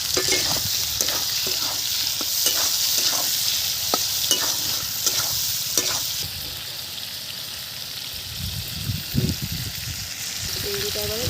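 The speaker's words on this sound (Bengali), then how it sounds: "এবারে চিংড়ি মাছ কটা ভেজে নিচ্ছি।" Shrimp sizzle steadily in hot oil in a kadai, with a continuous frying hiss broken by scraping stirs and occasional spatters, close and fairly loud.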